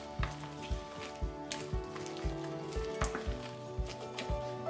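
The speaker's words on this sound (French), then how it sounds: "Donc je mélange le tout" Mashed potato croquette mixture with garlic powder and dried dill stirred in a bowl, a regular series of soft, squelchy thuds about two per second, close and moderately loud over a faint background hum.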